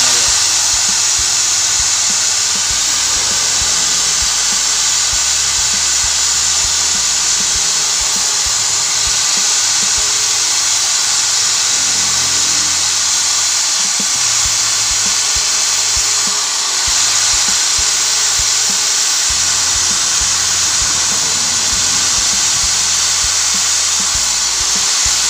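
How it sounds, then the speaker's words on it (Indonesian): A power drill spins sandpaper against scooter CVT rollers, producing a continuous loud, high whirring grind that runs unbroken through the whole stretch without talk. "Untuk mempercepat, kita juga bisa menggunakan amplas dan bor kayak gini, teman-teman."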